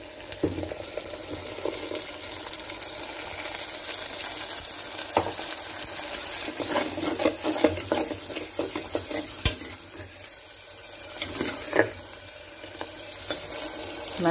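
Tomatoes and ground spice paste sauté in a clay pot for a spicy Kerala fish curry, giving a steady close sizzle with scattered stirring scrapes and clinks throughout, no talking.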